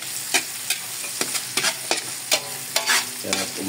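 Ginger being sautéed for dinuguan in a pan: a steady sizzle with repeated scraping stir strokes, close and fairly loud, no speech.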